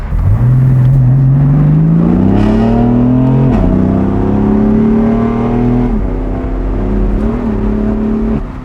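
A BMW sports car engine (335i E93, M3 E92 or M4 F82) revs hard toward high rpm, a loud, close, rising howl with quick shifts, the pitch stepping and climbing again, without talking.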